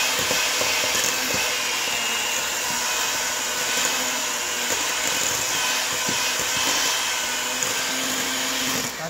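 An electric mixer blends oatmeal chocolate chip cookie dough with a steady, loud, continuous whir that holds without pause throughout.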